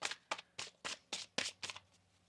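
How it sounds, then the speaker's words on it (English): Deck of oracle cards being shuffled by hand in seven quick, evenly spaced riffling bursts, soft and close in a quiet room. "One more shuffle."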